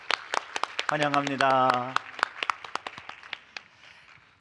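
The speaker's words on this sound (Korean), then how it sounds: "우리 박수로 환영드리겠습니다." Scattered, sparse hand claps from a church congregation during a Sunday worship service come as sharp separate slaps, while someone speaks briefly in the middle.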